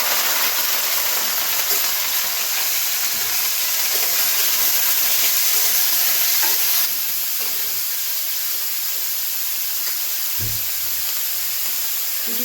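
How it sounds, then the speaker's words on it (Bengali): Chicken pieces and green chillies fry in a hot pan with a loud, steady broadband sizzle and hiss that eases slightly partway through, then continues with a brief low knock near the end; no voices. "কাঁচা লঙ্কা দিয়ে দেবো, চিকেনগুলো দিয়ে দেবো।"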